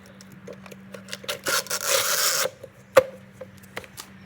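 A heater matrix is pushed into a Climatronic HVAC unit. Plastic parts scrape and rub in short bursts, then one sustained rasping slide and a sharp knock as it seats, up close and fairly quiet.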